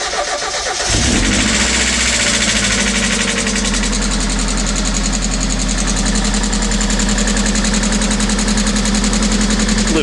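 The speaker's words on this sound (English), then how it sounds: "A little bit of tap and rattle as the lifters pump up" A freshly rebuilt engine catches with a quick starting burst and then settles into a steady idle. Lifters tap and rattle in a fast, even clatter over the loud, close engine drone.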